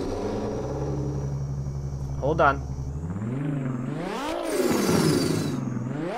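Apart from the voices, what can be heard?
loud Nissan Skyline drift car engine starting up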